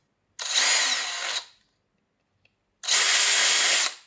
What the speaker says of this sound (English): I drill a hole here with 4mm drill bits.